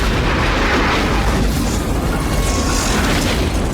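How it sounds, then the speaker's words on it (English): A miniature explosion effect in a movie, a loud, dense, sustained rumbling blast with broad crackling debris noise filling the whole moment, with no talk over it. "miniature explosions in movies are the best type of explosion you could do just because of how much detail you can get"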